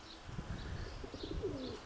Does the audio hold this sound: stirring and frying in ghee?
no